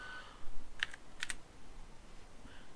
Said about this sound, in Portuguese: Vocês vão clicar o número 1 do seu teclado.